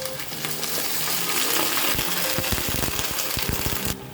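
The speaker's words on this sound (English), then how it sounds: "Now I go ahead and add my water," Water pours and splashes into a hot pan of peppers for Indomie noodles, hissing and sizzling steadily with crackling bursts, no voices.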